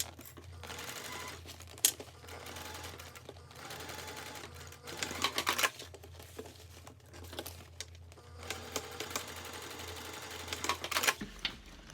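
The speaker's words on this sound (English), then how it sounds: "now we're going to sew this birthing hole closed" A sewing machine stitches closed the turning hole of a small Trekoda-pattern mini backpack, running in short stop-start bursts of rapid needle clatter over a faint motor hum, with quiet handling between runs.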